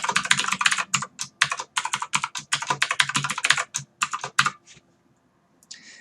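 Rapid typing on a computer keyboard, a dense flurry of clicking keystrokes, close up, then a brief pause before a few more taps.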